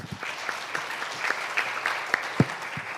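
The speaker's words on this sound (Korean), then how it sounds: "큰 박수로 맞이해 주시기 바랍니다" Sparse, scattered clapping from a conference audience welcoming a speaker, with a handful of distinct claps that are fairly faint and irregularly spaced.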